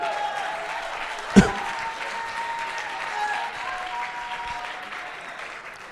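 A church congregation applauding in acclaim of God, a broad sustained wash of many clapping hands filling a large room, with one sharp thump early on and a faint murmur beneath.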